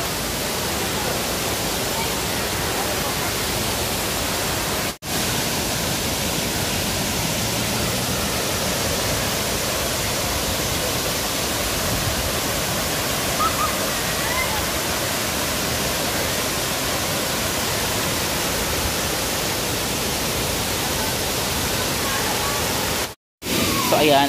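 Waterfall in Lamitan City, Basilan, its cold water crashing in a loud, dense, unbroken roar close by. The dense noise runs steadily throughout, cutting out briefly near the end.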